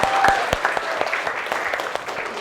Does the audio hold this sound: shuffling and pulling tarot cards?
no